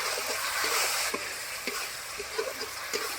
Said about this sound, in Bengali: এবার আমি মশলাটা দিচ্ছি